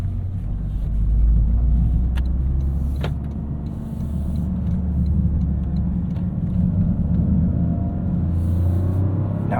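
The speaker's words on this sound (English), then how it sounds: "I heard that this car was a 3-cylinder, because that is quite untraditional, but it makes a really cool noise" Three-cylinder engine of a 2023 Toyota GR Corolla Core with a six-speed manual, droning low and steady from inside the cabin on a canyon run, rising and easing slightly with a few faint clicks.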